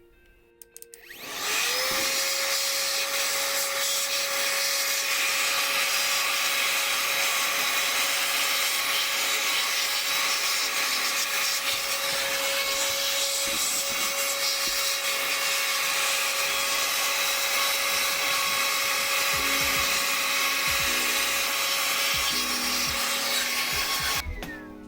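A loud, steady electric air duster whines continuously with a constant high tone for about twenty seconds, blowing dust off a small Corsair computer fan, starting and stopping abruptly.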